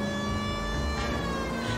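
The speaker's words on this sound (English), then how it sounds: "Sirens all the way." Police car siren in the video game L.A. Noire, a steady wailing tone with layered harmonics sounding continuously over engine rumble, fairly loud and close.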